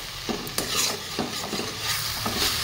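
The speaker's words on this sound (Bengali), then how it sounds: "তো আমার গাজরটা ভাজা হয়ে গেছে" Grated carrot fries in a pan for a sweet winter pitha, with a steady sizzle broken by several distinct scrapes and clinks of a spoon stirring the carrot. No one speaks.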